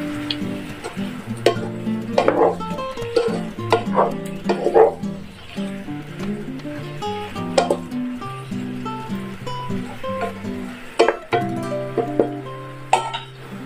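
Shaoxing rice wine poured into pork belly braising in a wok for Chinese red braised pork, sizzling steadily beneath clinking and scraping stir strokes, loud and close.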